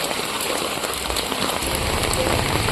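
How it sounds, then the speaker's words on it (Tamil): Heavy rain pours down in Vagaikulam village in Tirunelveli district during flooding, a dense, steady patter of drops hitting surfaces close by with no break and no talking. "மழை அதிகமாக வருது பார்த்தீங்களா"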